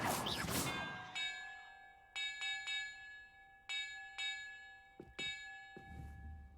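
Bells rung one after another in a video game, each a bright metallic ding with a long ringing tail, struck in a sequence of about eight with small gaps, after a brief burst of noise at the start.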